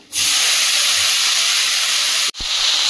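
Dried red chillies, green chillies, bay leaf, whole cumin and water lily stems hit hot oil in a wok, setting off a sudden loud, steady sizzle that breaks briefly near the end and then resumes.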